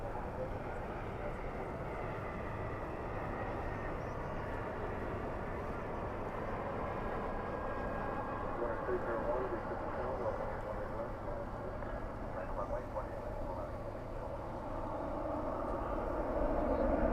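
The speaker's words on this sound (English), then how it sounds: "Spoilers up, reversers out." An airliner touches down at night at Dallas/Fort Worth with spoilers raised and thrust reversers deployed, giving a steady, broad roar that holds throughout and swells slightly near the end, heard from a distance with a voice speaking over it.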